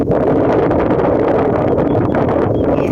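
Steady wind buffets the microphone outdoors during an airgun fishing trip, a loud continuous roar with no break and no one speaking.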